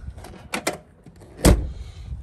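The driver's door of a silver 2006 Land Rover Defender 110 TD5 station wagon is worked, giving a couple of light latch clicks followed by one solid, close thud of the door shutting.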